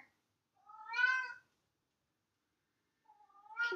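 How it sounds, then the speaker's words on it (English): A house cat meows close by indoors, two separate drawn-out cries with quiet pauses between them, clear and alone. "don't know what my cat's doing."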